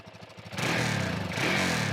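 Suzuki DRZ 400 single-cylinder 400cc engine with a stock muffler, fairly quiet, chugging at low revs before rising into a steadier, fuller drone about halfway through, close by with no talking.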